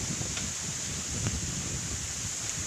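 Strong wind blows through bamboo and fruit trees during a heavy rainstorm in the countryside, a steady loud rushing hiss with rustling leaves and no clear gusts standing out.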